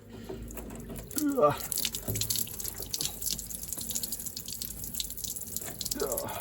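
Fuel draining and trickling out of the opened fuel sediment bowl on an old, cheap dozer being saved from scrap, a continuous liquid splashing and dribbling close by with some clunks and brief voice sounds.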